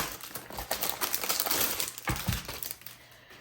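Crinkly plastic packaging crackles and rustles close by as it is pulled off A6 paper envelopes, a busy run of sharp crumpling bursts with no talk.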